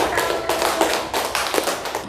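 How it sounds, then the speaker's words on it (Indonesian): Classroom applause from school students for a presenting group, a short burst of uneven, fairly close hand claps with a few louder individual claps, heard alone without talk. "Tepuk tangan untuk kelompok"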